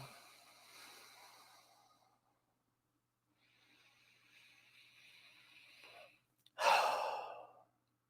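A person takes slow, airy breaths, first a soft inhale, then a longer one, ending in a louder, close exhale or sigh after a brief pause.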